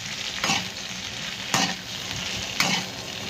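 Okra frying in a pan over raised heat, a steady close sizzle with three distinct scraping stirs spaced about a second apart, no talk.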